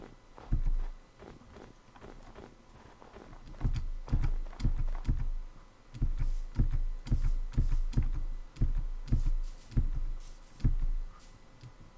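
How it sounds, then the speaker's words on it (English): Hard, heavy typing on a computer keyboard during a Minecraft session, a run of loud close clacks in irregular bursts with a brief pause before a steadier stream of forceful keystrokes. "You're just destroying the keyboard. I can hear it."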